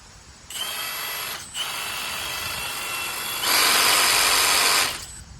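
A DCK 20V cordless brushless reciprocating saw with a 4.0Ah lithium-ion battery runs free with no blade fitted, whining on, dipping briefly, then holding steady before surging louder at higher speed and stopping, close and alone.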